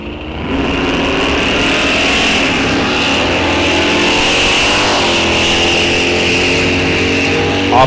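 Drag race cars, a Mopar among them, launch at a bracket race with a loud, steady engine roar that rises quickly and holds at full power up close for several seconds.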